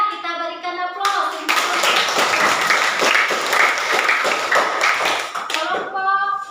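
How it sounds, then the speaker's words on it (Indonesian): A classroom of students claps for a group's presentation, with dense, lively applause that starts sharply, carries on steadily for several seconds, then fades as voices return at either end. "Kita berikan aplaus"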